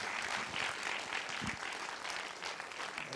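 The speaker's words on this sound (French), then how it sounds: "Je coupe les applaudissements," Sustained applause from a cinema audience after a film preview screening, dense and fairly soft, continuous clapping with no pauses from start to finish.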